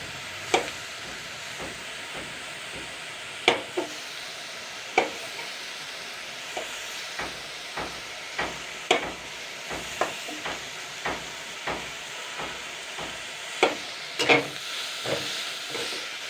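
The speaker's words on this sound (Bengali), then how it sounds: "এর সাথে একটু হালকা নেড়ে চেড়ে নেবো।" Pieces of soft atta dough fry in a wok and are broken up and stirred with a spoon; a faint background sizzle is punctuated by sharp, irregular clicks and scrapes of the spoon against the pan.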